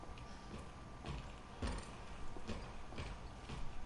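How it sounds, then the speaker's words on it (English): Enemy footsteps in a PS4 video game, a faint, fairly regular series of soft thuds roughly every half second, muffled under a steady game background. "Keep on hearing his footsteps."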